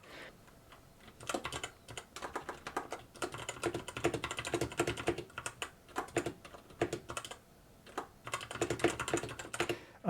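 Typing on a mechanical keyboard with stock brown switches, fitted with hot-swap sockets. Bursts of close, crisp key clacks come in quick irregular runs, broken by short pauses, with no voices.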